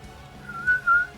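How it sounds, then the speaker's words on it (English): A person whistles a short melodic tune while painting a miniature, two sustained rising notes standing out near the end over faint background music. "I got to remember not to whistle"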